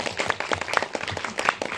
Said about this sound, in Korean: 박수 한번 다시 부탁드립니다.